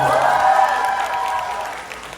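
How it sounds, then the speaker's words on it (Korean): Applause from a festival concert audience greeting a guest performer, a fairly loud, dense wash of clapping that holds steady and then thins out toward the end. "박수 한번 부탁드릴게요"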